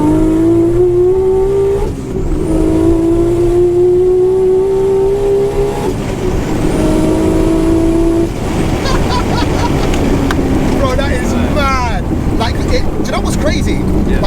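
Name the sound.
Nissan R34 GT-R accelerating through gears, hitting boost cut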